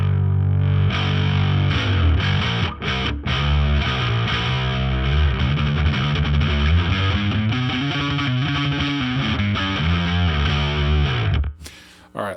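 A bass guitar played through a GCI Jugendtief overdrive, thick and gritty, with steady melodic notes running continuously before stopping abruptly near the end.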